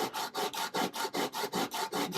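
Hand plane blade being sharpened on a sharpening stone, a steady back-and-forth rasping rub repeated about nine times in an even rhythm, close and fairly quiet with no talking.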